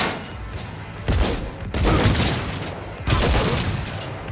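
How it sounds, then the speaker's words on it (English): Bursts of gunfire in the video game Cyberpunk 2077, three loud volleys spaced about a second apart, each followed by booming reverberation. "I am taking fire."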